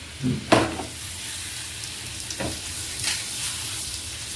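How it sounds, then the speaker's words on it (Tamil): Chicken frying in melted butter in a pan for a butter chicken dish, a steady close sizzle with a few sharper pops and stirring scrapes early on, no talk. "இப்போ இந்த பட்டர்லேயே நம்ம சிக்கனை ஃப்ரை பண்ணோம்."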